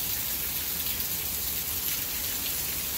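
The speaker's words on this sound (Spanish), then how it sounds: "Así está la tormenta ahorita acá en Houston, amigos" Heavy rain from a storm in north Houston, a dense, steady hiss of rainfall pouring down on surfaces close by, with no break.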